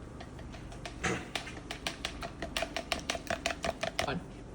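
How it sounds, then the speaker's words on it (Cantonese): Eggs whisked in a bowl, a rapid run of close, sharp ticking strokes against the bowl, speeding into a steady clatter over a low background hum, with a brief word spoken. "然後打完啲蛋之後要發勻"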